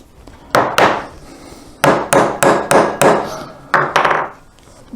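A hammer taps dot pin position markers into a wooden bass guitar neck in a workshop, with about nine loud, close, woody knocks, two early, then a quick run of five and two more near the end.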